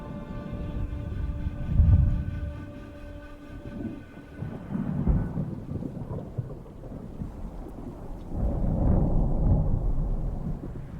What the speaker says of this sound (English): A large sandstorm is approaching.